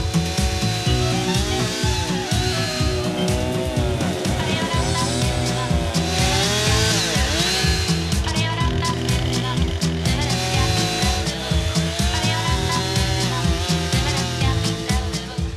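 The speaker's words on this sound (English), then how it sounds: "contestants must make a 3D depiction of the ANZ logo using a log of wood and a chainsaw" At a Young Farmer contest, a chainsaw carves a log of wood into a 3D logo, its engine droning loud and close, pitch rising and falling as it bites into the timber.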